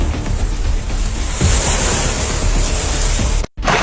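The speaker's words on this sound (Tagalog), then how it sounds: "Grabe, ang sarap talagang maligo sa dagat." Ocean waves surging at the sea with wind buffeting the microphone, a loud continuous wash of surf heard up close, briefly cutting out near the end.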